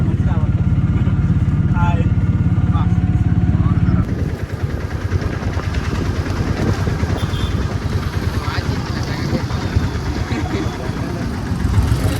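A motorcycle engine runs steadily during a ride with friends on a rough rural track, its low rumble continuing under frequent talking.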